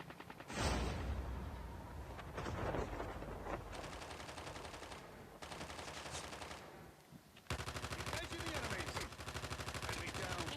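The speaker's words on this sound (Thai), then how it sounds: "พอกระสุนมันเปลี่ยน เสียงมันเปลี่ยนเพราะว่าปืน" Gunfire in the Call of Duty video game: loud bursts of rapid automatic rifle fire come in several separate volleys with short pauses between them, with the sound shifting as the ammunition type changes.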